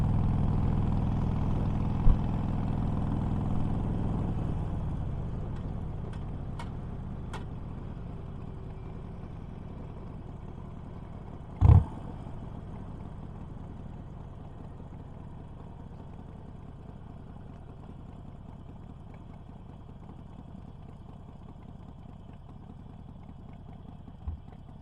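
A motorcycle engine idles and runs low and steady during a quick test ride in the Prior Lake neighborhood, its rumble fading gradually, with one sharp click partway through.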